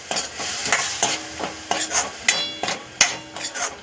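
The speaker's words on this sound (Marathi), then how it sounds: "आता हे पूर्ण मसाले व्यवस्थित आपण तेलामध्ये परतून घेणार आहे" Spices in oil for a garlicky methi dish are stirred and sautéed up close, with a spoon clacking and scraping against the pan in uneven strokes over a soft sizzle.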